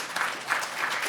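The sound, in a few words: conference audience applause for organizers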